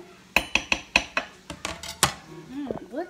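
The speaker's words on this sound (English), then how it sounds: "once you get everything in there, you're gonna stir it together" Chopped onions and jalapenos are stirred in a crock pot, with a run of sharp, evenly spaced clanks of a utensil against the pot, then softer scraping and mixing noises up close.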